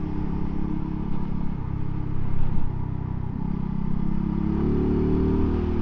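A 2024 MUTT DRK 250 motorcycle engine drones steadily up close while the rider powers through corners, its pitch and roar climbing toward the end with no voices over it.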